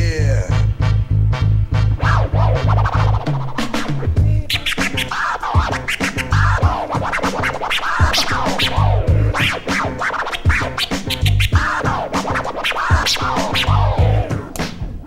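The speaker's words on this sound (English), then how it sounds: "So first we just did the platter scratch, so we're gonna learn a combo with that." A DJ performs platter scratches combined with faderless scratches on a turntable over a steady drum beat, the quick pitch-swept scratch strokes riding loudly on top of the thumping rhythm.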